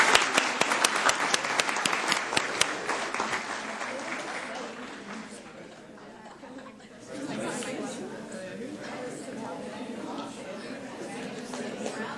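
A city council audience in Columbus, Georgia claps in distinct close strokes that fade into a quieter lull, then murmuring chatter and scattered movement fill the chamber, with people talking throughout.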